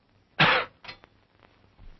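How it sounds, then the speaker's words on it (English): A single harsh cough bursts out up close, followed by a weaker second cough and a faint throat-clearing rasp, in a quiet 1939 film scene. "Cough."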